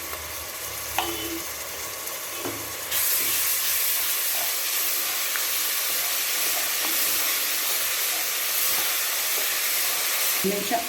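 Garlic paste sautéing in a pan for Ambur chicken biryani: a few light utensil knocks at first, then a sudden loud burst of hissing sizzle that holds steady, dotted with occasional stirring clicks.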